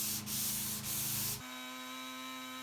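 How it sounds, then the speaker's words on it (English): Several close, rasping strokes of sandpaper rubbing along the grain of a wooden coffee table, followed by a steady, even machine hum. "The table got a final sanding, first with a random orbit sander and then, as always, hand sanded with the grain."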